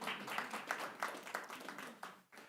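Applause at a city council meeting, a burst of many hands clapping at a moderate distance, fairly steady for about two seconds before fading out, faint overall.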